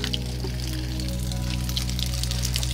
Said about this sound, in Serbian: mogu slobodno da sipam